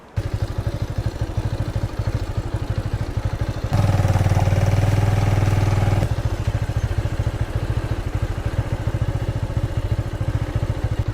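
A Bajaj Avenger cruiser motorcycle's engine runs with a steady, close, throbbing thump, swelling noticeably louder for a couple of seconds midway before settling back to its even pulse.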